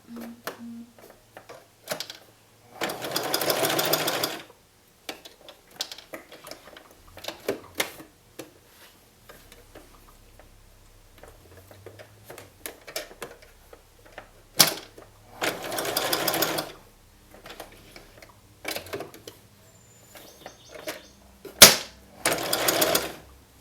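A home sewing machine stitches an eye onto a stuffed bat pillow in several short, quiet bursts of rapid mechanical whirring spread across a mostly still stretch, with faint clicks and handling noises in between.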